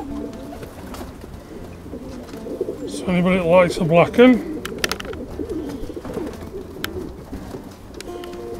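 Racing pigeons coo softly in the background while someone talks nearby, with a brief burst of louder warbling coos in the middle.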